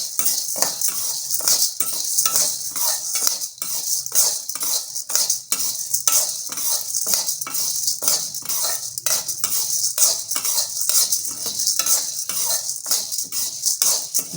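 Urad dal dry-roasting in a pan for sesame idli powder, a steady run of quick scraping and rattling stirs with a faint sizzle, close and continuous with no voice over it.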